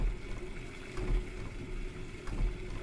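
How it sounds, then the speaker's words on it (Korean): Steady running water flows in an abandoned house in the horror game Jisatsu, a continuous low gush with a faint hum. It sounds moderately close and stays even throughout with no talk. "오, 물소리 나는데?"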